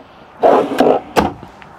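Wooden drawers in a 2017 Holiday Rambler Admiral 26D RV slide open and shut with a couple of rolling scrapes and a firm knock, close by and fairly loud.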